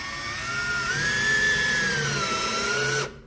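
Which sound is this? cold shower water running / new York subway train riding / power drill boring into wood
power drill boring into wood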